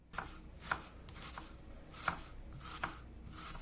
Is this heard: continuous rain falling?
no